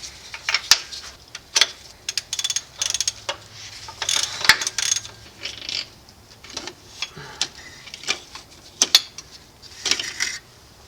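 A ratchet wrench with an 18 mm socket clicks in short, irregular bursts while removing the starter from a 2013 Volkswagen Golf Mk6, close and crisp, with pauses between strokes and no talking.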